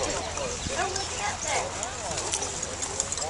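Horse hooves clip-clop steadily on a cattle drive in the Ozarks, close by, with people talking over the rhythmic clopping.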